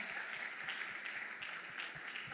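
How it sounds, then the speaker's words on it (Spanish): Congregation applause at a church gathering, a steady dense clatter of many hands clapping together throughout, fairly loud and unbroken. "démosle un aplauso al Señor porque esa es una realidad"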